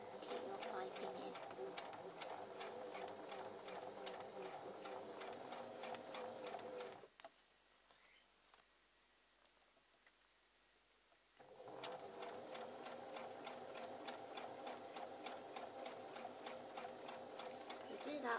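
A sewing machine fitted with a zipper foot stitches piping with a steady, fast, even chatter, stops for a few seconds, then starts again at the same pace, with a voice talking over it.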